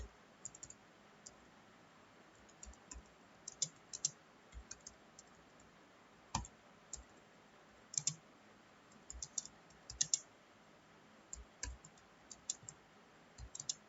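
Typing on a computer keyboard while entering code into a text editor: sparse, quiet key clicks and small bursts of taps spread irregularly over a faint, steady background hiss.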